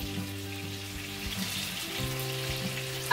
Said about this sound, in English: I'm going to brown all these oxtails.